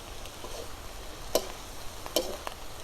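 Crickets roasting with herbs in oil in a pan give a low, steady sizzle, broken by a few sharp clicks and scrapes as they are stirred, close and fairly quiet with no talk.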